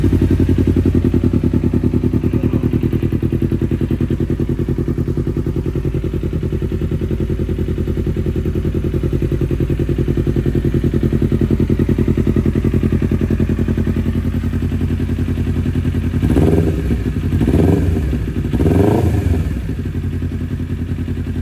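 A Kawasaki Ninja 250 with a Leovince full-system racing exhaust idles with a loud, deep, throbbing rumble, then revs sharply three times near the end.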